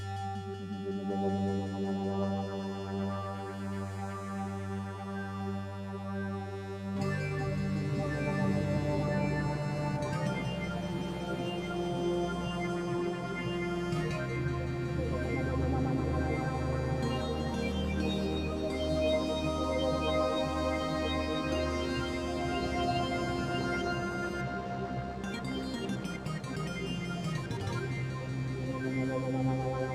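A synthesizer tone with LFO modulation drones on a held chord for thirty seconds, then shifts to a denser, wavering texture with sliding, warbling overtones that drift and float, steady in loudness and free of talk.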